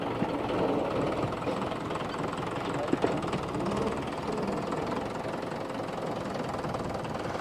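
A tractor rebuilt as a JCB-style front loader runs its engine steadily while the bucket fills, a constant mid-pitched rumble with a couple of brief clunks.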